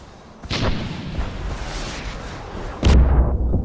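A loud land mine explosion in Far Cry 4 bursts out, followed a couple of seconds later by a second heavy blast, with rumbling battlefield noise between them.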